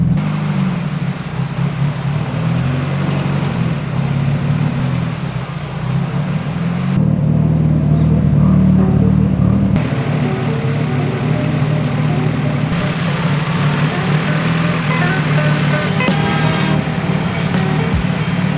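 Honda Civic driving on the road after a wheel alignment, a steady droning engine and road rumble heard from inside the cabin, loud and continuous throughout.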